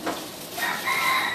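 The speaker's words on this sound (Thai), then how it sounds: "อย่างเสียงไก่ร้องเสียงหมาเห่า" A rooster crows in the morning, a short harmonic call that rises and holds for about a second at moderate distance, with no talking over it.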